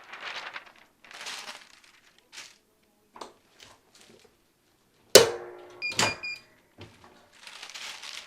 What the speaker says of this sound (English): Grab my DTF sheet. I'm just gonna cut this top one off.